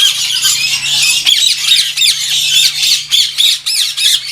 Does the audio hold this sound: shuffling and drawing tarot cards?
no